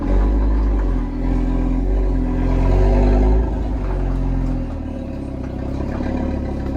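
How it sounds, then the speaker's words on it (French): The five-cylinder engine of an Audi RS3 idles on its stock exhaust with a deep, loud, steady rumble and a slight uneven burble, heard up close with no talking. "le bruit du 5 cylindres comme ça au ralenti"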